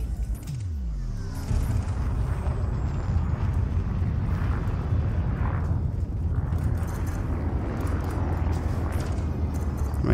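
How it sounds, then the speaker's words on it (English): Ship cannons fire repeatedly in the space combat game Elite Dangerous, heavy rapid booming blasts layered over a continuous low engine roar, with a descending tonal sweep at the start and no talking. "Right, I'm using cannons, I must remember that."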